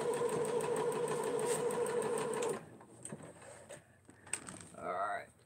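A sewing machine stitches pieces of a pineapple quilt block, running loud and steady for about two and a half seconds before stopping, followed by quieter handling noises and a brief rising whir near the end.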